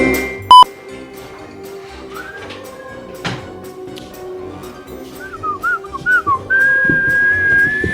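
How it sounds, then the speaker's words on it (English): A person whistles a wavering, rising tune that turns into a long sustained note, with a sharp beep and faint background noise early on. "I thought he was the one whistling"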